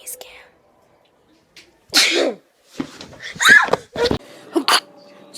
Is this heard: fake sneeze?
yes